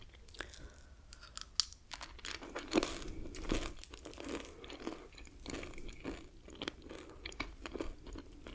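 Close, wet chewing of pure bubblegum-flavored gum, with steady smacking and soft crunchy clicks repeating throughout at an intimate distance and no talking.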